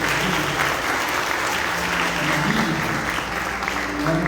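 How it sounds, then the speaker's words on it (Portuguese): A church congregation claps in sustained, dense applause that fills the room evenly from start to finish. "Você pode dar uma salva de palmas a Jesus?"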